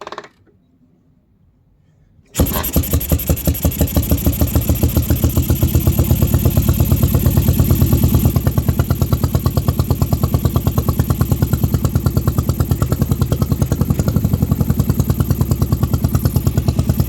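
A 1980 Harley-Davidson Shovelhead V-twin catches after a quiet moment and settles into a loud, steady, lumpy idle, its rapid potato-potato pulses running close and unbroken to the end.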